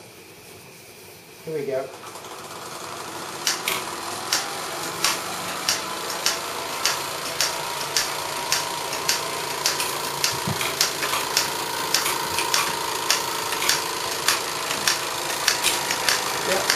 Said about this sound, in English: I think we might wait until the safety valve pops.